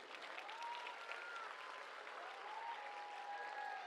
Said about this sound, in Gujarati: બધા જ બાળકો માટે પહેલા જોરદાર તાળીઓ.